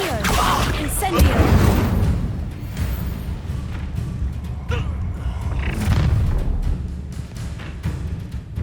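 The Incendio fire spell is cast during a Hogwarts Legacy duel with a loud whooshing burst of flame and booming impacts. Dense, continuous battle noise surrounds the spell, and voices shout over it.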